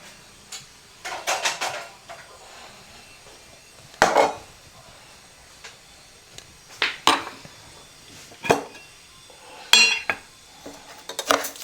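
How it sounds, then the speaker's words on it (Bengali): A small spoon adds half a spoonful of sugar to tea, giving clusters of bright clinks and taps against a cup, close and clear, with quiet gaps between bursts. "এটা একদম ছোট চামচে হাফ চামচ মতন চিনি ওকে দিয়ে দিলাম"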